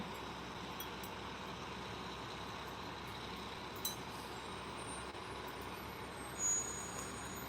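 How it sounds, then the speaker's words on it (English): Semi truck pulling over on a gravel dirt road, a steady low engine rumble and road noise with a brief hiss near the end. "The semi is pulled over because high traffic on this dirt road, gravel road of ours."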